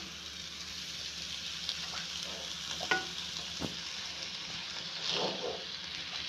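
Hakka noodles tossed in a hot pan, a steady soft sizzle with a few scraping stirs and clinks scattered through it.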